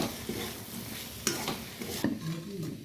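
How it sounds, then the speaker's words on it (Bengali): Ground cumin and black pepper are stirred into fried potatoes in a pan, a close, soft scraping and rubbing of the utensil with light sizzling underneath and a couple of sharper knocks against the pan. "তারপর ভালো করে আবার মিশিয়ে নেব মশলাগুলো"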